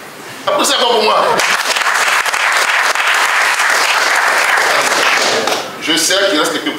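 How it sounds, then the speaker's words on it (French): Loud, sustained crowd applause at a PDCI-RDA political rally, with clapping and scattered shouts filling the space between brief bursts of a speaker's voice at the start and end. "Applaudissez encore pour moi."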